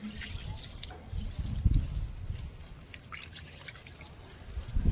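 Neem-leaf water trickles and drips in uneven splashes onto plant leaves, a soft close patter with scattered droplets and no talking.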